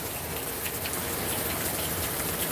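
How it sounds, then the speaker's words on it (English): Steady heavy rain in the MillionEstate video game, a dense, even hiss of drops falling on a surface with no pauses, loud and close throughout. "And now it rained on it and the whole situation is cool."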